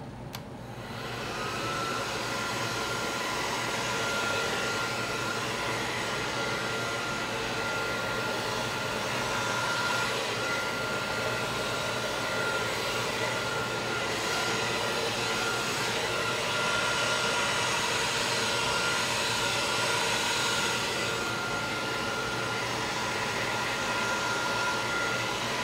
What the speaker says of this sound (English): wiggle the blow dryer